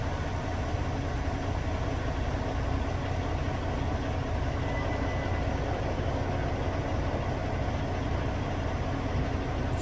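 A semi truck's diesel engine idles steadily during a pre-trip inspection, a loud, continuous low rumble with no talk over it.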